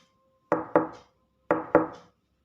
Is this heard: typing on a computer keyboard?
no